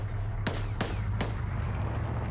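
A .50 cal machine gun in the video game Arma 3 fires three loud, sharp shots spaced about 0.4 seconds apart over a steady low rumble, then falls quiet.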